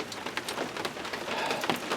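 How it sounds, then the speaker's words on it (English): Steady rain pattering on surfaces during a thunderstorm in Larned, a soft continuous patter of drops with scattered sharper taps, fairly quiet and with no voices. "rain seems to be going back and forth"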